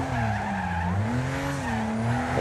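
Car tires squeal and skid under hard braking through a chicane in the Wreckfest racing game, a loud continuous wavering screech over steady engine drone.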